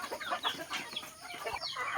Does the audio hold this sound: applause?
no